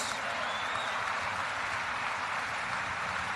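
An audience claps in a broad, even wash of applause, fairly faint and continuous for a few seconds.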